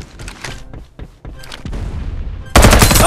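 Gunfire in the video game Farlight 84 comes as loud, close bursts of rapid shots with short gaps, ending in a dense, continuous blast of fire.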